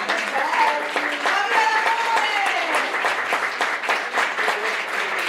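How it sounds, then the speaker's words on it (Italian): An audience at a Miss Riviera del Brenta pageant selection applauds a couple, steady clapping throughout with a voice and some tonal sound, probably music, over it. "un applauso per questa formidabile coppia"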